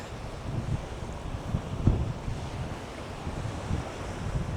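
Strong coastal wind at Bowleaze Cove buffeting the microphone in low rumbling gusts, with the wash of surf underneath, steady and loud throughout with no voices.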